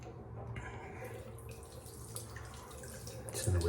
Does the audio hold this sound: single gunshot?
no